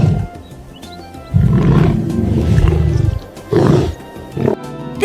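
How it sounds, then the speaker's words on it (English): A lion roars in a series of deep, loud bursts, a long rumbling call followed by two shorter ones, heard close and without talk, set among animal sounds for children. "This is a lion. Roar."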